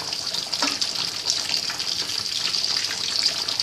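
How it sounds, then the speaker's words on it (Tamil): Fish curry (meen kulambu) boiling in a pot, a steady close hissing bubble that holds at an even level throughout without pauses. "இப்போ நல்லா கொதிச்சிருச்சு, இப்போ ஓப்பன் பண்ணி பார்க்கலாம்"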